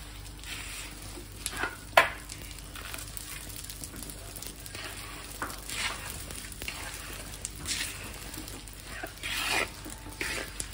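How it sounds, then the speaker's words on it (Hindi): Almonds dry-roasting in a pan with gond and fenugreek for a winter recipe give a steady close sizzle, broken by scraping stirs and a few sharper clinks of the spatula against the pan. "बादाम भी हम थोड़ा थोड़ा करके डालेंगे, अच्छे से सिक जाएगा बादाम भी"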